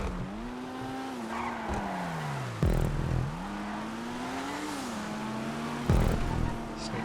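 HSW Issy Rallier race car driving in GTA 5, engine tone climbing and dropping through gear changes with two sharp loud bursts and tire noise, close and continuous without talk.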